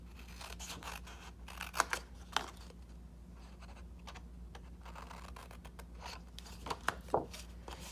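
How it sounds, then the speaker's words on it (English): Scissors snip paper in quick, light cuts, a few sharper clips standing out over a low steady hum. "We're going to take our scissors and we're going to trim off just like last time."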